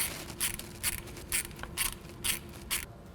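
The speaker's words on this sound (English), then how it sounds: "Now we'll reinstall the drain plug and torque to spec." A torque wrench tightens the oil drain plug on a 2016-2021 Polaris RZR XP Turbo, giving about seven crisp, evenly spaced ratchet clicks, close and alone.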